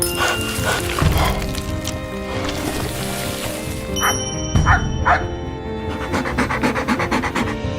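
A dog yips, pants and whimpers during a rescue from a burning building, close and intermittent over a busy tonal background with ringing chimes.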